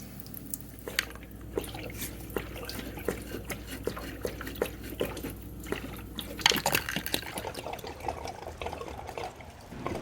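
Water drains from a pool pump after the drain plugs are pulled, a steady trickling and dripping with splashy bursts, close and fairly quiet, without speech.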